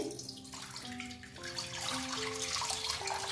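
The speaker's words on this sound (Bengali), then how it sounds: "এখন একটু আমি জল দিয়ে দিচ্ছি" Water poured into a pan (kadai) set on a lit gas stove, a steady filling sound with rising tones as the level climbs, close and moderately loud, with no talking.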